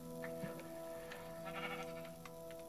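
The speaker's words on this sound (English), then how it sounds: "We've got our first sheep in." Sheep bleating in a farming survival video game, a few short bleats, fairly quiet, over steady game music tones.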